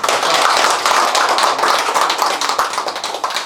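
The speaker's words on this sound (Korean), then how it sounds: "이대로 박수 한번 쳐야 됩니다" Villagers at a mayor's town meeting in a rural Korean township applaud together, a dense, close burst of many hands clapping continuously with no talk, holding steady for several seconds.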